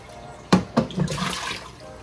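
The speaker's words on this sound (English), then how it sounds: "spray or squirt at the rocks and the crevices, and you basically flush out all that" Water is squirted at the rocks and crevices of a 20-gallon saltwater aquarium: two quick, close spurts followed by a softer, longer gush and slosh, all fairly quiet.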